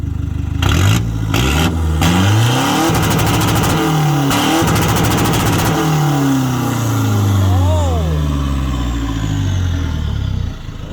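A car engine with an aftermarket turbo revs hard several times to about 5,000 rpm, rising and falling sharply, with turbo whooshes and spool sounds close by and a brief whistle near the end.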